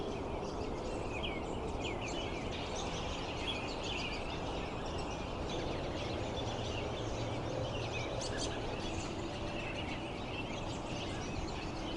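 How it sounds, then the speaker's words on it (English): Scattered bird chirps and calls come from a distance over a steady, breezy outdoor hiss, with no voices. "Definitely a lot of birds out today"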